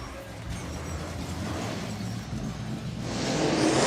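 AMCA Nationals race cars at Gympie Speedway, a dirt oval, roar past as a continuous engine drone that swells louder toward the end.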